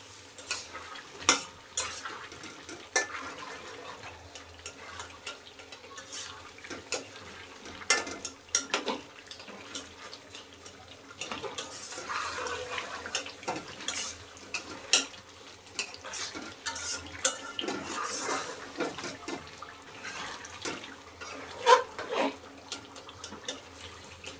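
A spoon stirs spice powder into goat meat in a cooking pot, making steady scraping and clinking strokes with a soft sizzle underneath. The sound stays close and fairly quiet, with no talking.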